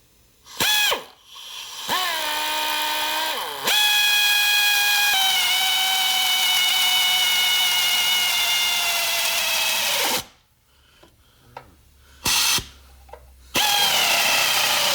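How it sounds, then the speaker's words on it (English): A power drill with a step bit whines loudly in long sustained bursts, pitch sagging under load as it bites into metal on a Jeep JL Wrangler Unlimited, with brief pauses and restarts between runs. "we'll go ahead and start drilling out our hole."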